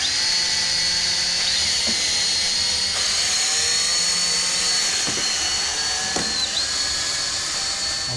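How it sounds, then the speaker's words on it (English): A power drill drives screws to fasten a metal part, giving off a loud, steady whine that holds for about eight seconds. Its pitch dips and surges slightly as the screw bites. "All right, we can screw this half on."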